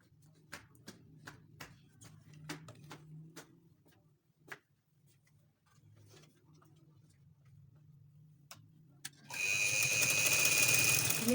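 A sewing machine stitches piping onto a newborn baby frock's neckline. Scattered light ticks and clicks of fabric handling come first, then the machine runs in a loud, steady whirring burst for about two seconds at the end.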